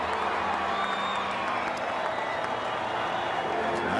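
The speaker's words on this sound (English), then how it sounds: "Nice round of applause for Robin Ventura" A ballpark crowd at a 1990 Red Sox–White Sox game gives a sustained, even round of applause, dense clapping filling the stadium without pause.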